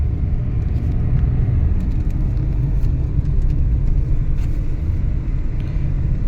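A car driving along, heard as a steady low rumble of engine and road noise throughout, fairly loud and even, with no voices.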